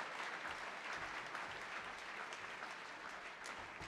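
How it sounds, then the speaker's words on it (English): Steady, dense audience applause fills the hall at an award ceremony for science prizes, a continuous wash of many hands clapping at moderate level throughout. "Give them a big round of applause."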